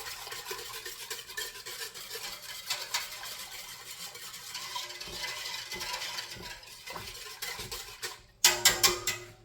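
Dill pickle canning liquid is stirred in a pot, a continuous swishing churn with faint utensil scrapes against the metal, and then three sharp clinks of the spoon on the rim at the end.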